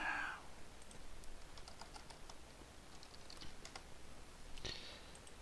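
Computer keyboard and mouse clicks while playing Minecraft, a quiet scatter of light taps and clicks over a faint background hiss, with a few brief louder bursts near the start and end.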